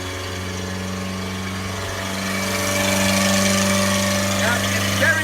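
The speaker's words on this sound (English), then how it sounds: "Yeah, it's very high idle," A 1985 Toyota Tercel engine idles high and steady after a cold start following a year without running, a loud continuous hum with a slight swell partway through and no speech over it.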